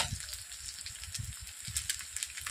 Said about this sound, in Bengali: পেঁয়াজ, আদা, রসুনকে আমি ভালোভাবে ভেজে নেব একসঙ্গে, যাতে কাঁচা ভাব না থাকে।